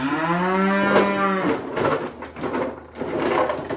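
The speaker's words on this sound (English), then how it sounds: "who's our cow that's mooing" A cow gives one loud, drawn-out moo close by, followed by rustling and handling noises.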